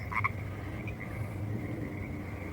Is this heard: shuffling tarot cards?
no